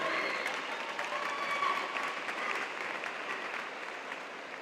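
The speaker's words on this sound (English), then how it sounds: "Give them a nice round of applause as well" Audience at a 2018 graduation ceremony for Innovation Central and GR Montessori gives a steady round of applause, a dense wash of many hands clapping that holds fairly even and fades slightly toward the end.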